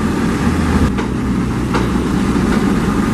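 A Cometto heavy transporter at a casting yard on the Jakarta–Bandung high-speed rail project, just out of a tunnel and carrying a launcher machine, drones steadily as its engine idles, loud and continuous with no pauses.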